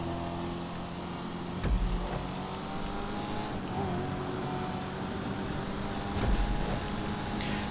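A race car engine drones steadily in GTA 5 Online on an empty road, with a sustained mid-pitched whine and a couple of brief thumps, loud and continuous, without speech.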